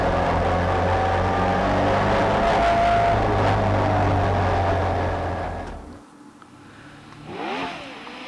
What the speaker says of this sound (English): Dave Gardner launches a Pilbeam DFZ into Wiss Corner